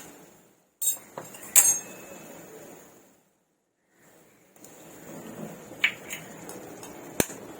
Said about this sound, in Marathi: आपण आता अंडी फोडून टाकूया